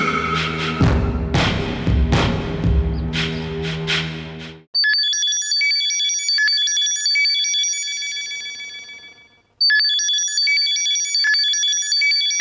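A phone rings in a Tamil television drama scene: after several seconds of loud music with percussive hits, a bright electronic ringtone chimes in repeating melodic bursts, clear and close, pausing once before starting again.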